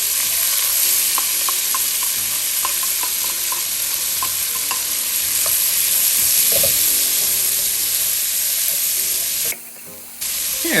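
Celery and sweet onions frying in a pot for Manhattan clam chowder, a steady crackling sizzle with light stirring taps, briefly cutting out near the end.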